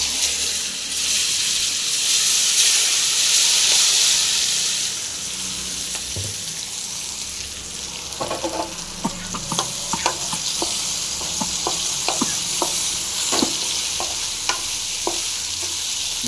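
Amla gooseberries frying in oil with mustard to make a pickle: a loud, steady sizzle and hiss, then a ladle scraping and clinking against the pan in an uneven stirring rhythm, with no talking.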